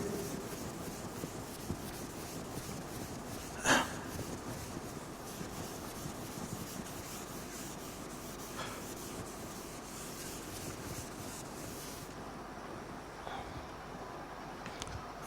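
Writing being erased from a board during a lecture: a long, continuous soft rubbing and scraping, fairly faint and steady, with one brief louder knock early on and a quiet room behind it.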